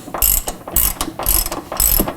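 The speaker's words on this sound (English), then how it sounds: "now we'll secure it with a self-tapping bolt" A ratchet clicks in four quick bursts, driving a self-tapping bolt into a bracket for remote reservoirs during a lift kit install on a 5th-gen Toyota 4Runner, loud and close.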